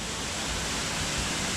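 Waterfall at a spring water pool in Gorse, St. Vincent and the Grenadines, a continuous broad rushing hiss of falling water, steady and fairly loud with no voices.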